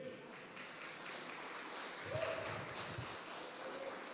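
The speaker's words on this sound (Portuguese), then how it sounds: "Vamos aplaudir Jesus pela vez do pastor Rogério aqui?" A church congregation applauds with a steady, soft, somewhat distant patter of many hands, swelling slightly midway. Murmured voices sit faintly underneath.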